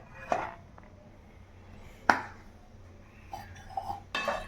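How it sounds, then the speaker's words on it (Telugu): Knife clinking against a plate while boiled eggs are cut into cubes for pickle, a few sharp separate taps with quiet pauses between them. "ఇప్పుడు దీన్ని ఒక ప్లేట్లోకి తీసుకొని మనం పీసెస్ లాగా కట్ చేసుకుందాం పచ్చడికి కావాల్సిన విధంగా"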